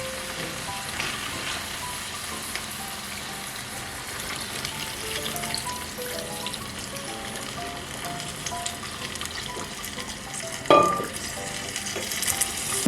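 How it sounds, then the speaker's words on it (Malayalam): Wild boar meat with vegetable soup at a rolling boil in a pot, a steady soft bubbling and sizzling hiss throughout, fairly quiet with a brief clatter near the end. "ഇപ്പം ഏകദേശം ഇത് നല്ലപോലെ തിളച്ച് വന്നിട്ടുണ്ട്."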